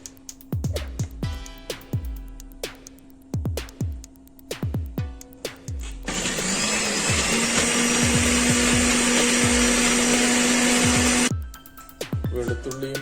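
An electric mixer grinder whirs loudly and steadily for about five seconds as it grinds garlic and dried red chillies for a Kerala chutney, preceded and followed by sharp knocks and taps.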